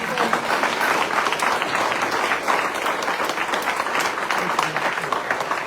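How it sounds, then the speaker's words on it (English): A town hall crowd at a government shutdown event with a Democratic candidate breaks into sustained applause, with dense, even clapping that holds steady throughout. "Yeah, let's get some applause."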